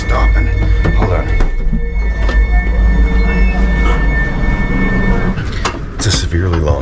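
A VIA Rail passenger train on an overnight mountain trip brakes toward a stop. Loud low rumbling runs under sustained high-pitched wheel squeals, with a voice speaking over it.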